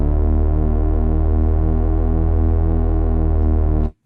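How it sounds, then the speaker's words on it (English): A warhorn made in the Vital synth, with its highs filtered off so it seems distant, holds a loud, steady, dark drone with a slow wavering pulse for about four seconds and then stops abruptly. "In order to make it sound like it's far away, we're gonna cut the highs."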